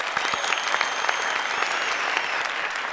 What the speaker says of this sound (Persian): یک تشویق کنین به افتخار دوست ما.